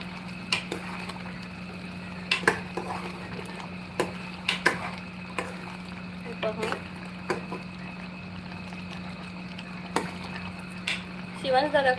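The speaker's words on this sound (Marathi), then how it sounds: "व्हेज कुर्मा आता छान उकळलाय." A pan of veg kurma bubbling while a spoon stirs and taps the pan in irregular clinks over a constant low hum, with faint voices nearby.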